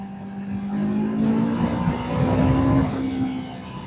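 A Yamaha R3 motorcycle engine revs hard to high RPM, a loud, steady, rising whine that holds for about four seconds with no talking.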